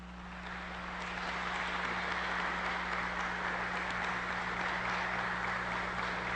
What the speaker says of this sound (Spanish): demos nuestro aplauso de bienvenida a los integrantes de la mesa.